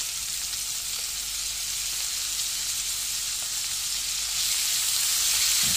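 Onion, garlic and tomato sauté in a pan with a steady, loud, hissing sizzle that holds constant and swells slightly near the end.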